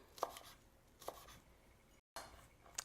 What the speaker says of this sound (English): chop it again, as fine as you possibly can